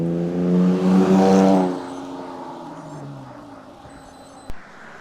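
A car passes close on a narrow mountain road, its engine tone loud and rising for about two seconds before fading off, leaving a quiet hum and a brief knock near the end.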